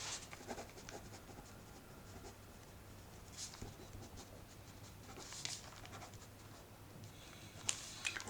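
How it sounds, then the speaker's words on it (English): A pen writes journal entries by hand on paper, giving soft, faint scratching strokes in short bursts against a quiet background hum. "Okay, so let's write that here."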